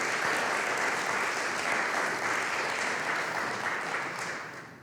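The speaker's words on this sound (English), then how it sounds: "So let's give him a round of applause." Steady applause from a conference audience at a closing ceremony, dense and even throughout, easing off slightly at the very end.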